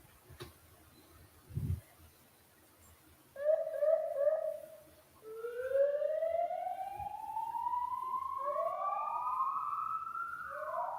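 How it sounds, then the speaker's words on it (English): A siren sound effect plays, first a short pulsing tone and then rising wailing sweeps, loud and clear against a quiet room after a couple of small clicks. "that sounds like a siren."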